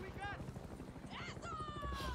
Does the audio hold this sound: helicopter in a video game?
yes